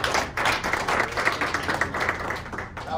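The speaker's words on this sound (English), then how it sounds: "Can we get a big round of applause for" A large audience at a soil regeneration talk bursts into a big round of applause, loud and dense clapping that swells and stays strong before tapering slightly at the end, with no speech over it.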